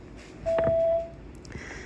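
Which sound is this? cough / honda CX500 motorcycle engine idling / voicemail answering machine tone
voicemail answering machine tone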